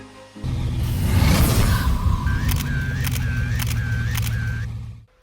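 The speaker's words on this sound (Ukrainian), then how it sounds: "Який ви чуєте на задньому плані, це шум нашого кулеру." A steady mechanical hum of a cooling fan on AMS A1 bi-LED headlight modules runs throughout, with repeated short whirring or chirping tones layered on top before it cuts off.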